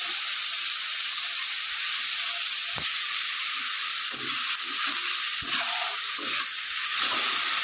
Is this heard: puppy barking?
no